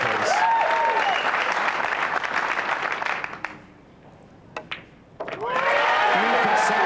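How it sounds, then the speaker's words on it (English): A crowd at a professional women's pool match breaks into loud, sustained applause mixed with cheering voices, dies down briefly, then swells again at full strength. "An appreciative crowd running, jumping, and applauding."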